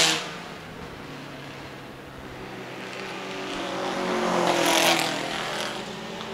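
A vintage production race car under 1.5 litres with a rough, unhealthy-sounding engine passes on a road course at the Pittsburgh Vintage Grand Prix, its broadband roar building gradually and peaking as it goes by at a moderate distance.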